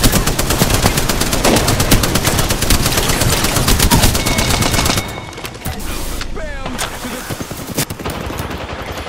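Rapid automatic gunfire rattles loud and continuous in an Apex Legends match, then thins into scattered shots and bursts after a few seconds, with a player's voice faintly underneath.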